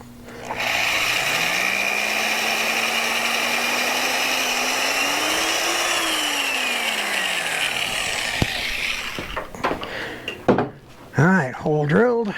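Power drill boring a hole for a stainless steel rivet in an X-class fender, a steady whine that rises and falls in pitch for about seven seconds before cutting out, followed by scattered clanks and a brief voice.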